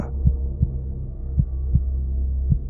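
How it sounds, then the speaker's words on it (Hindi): A heartbeat thumps in paired lub-dub beats, low and heavy, repeating steadily over a deep hum, close and prominent with no talking. "मेरा दिल तेज़ी से धड़कने लगा"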